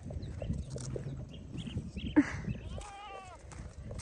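A goat gives one wavering bleat close by, over a low background murmur and faint rustling.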